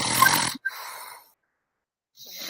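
A man snoring hard, with a loud rasping inhaled snore, a short snort and a rougher grating breath, then a brief silence before the next snore begins.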